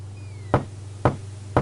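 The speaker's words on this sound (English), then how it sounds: "I'm trying to knock on the door!" Three evenly spaced wooden knocks on a door in the video game King's Quest 6, crisp and close, sounding one after another over a low steady hum.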